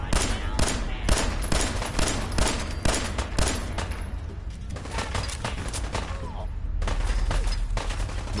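Gunfire in a Fallout 4 firefight comes as dense, rapid bursts of loud shots, a lull at the midpoint, then renewed steady automatic fire.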